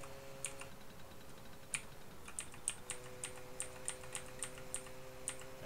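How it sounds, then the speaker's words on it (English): Keys clatter on a computer keyboard during a Finland Simulator 2016 driving game, a run of irregular close clicks over a low steady game hum, with no talking. "It ain't easy to drive with a keyboard"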